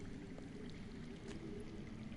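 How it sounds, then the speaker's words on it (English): Underground water flows in a Game of Thrones video game, a continuous low rushing and pouring stream that stays steady and somewhat distant, with no talking. "I hear water. From underground."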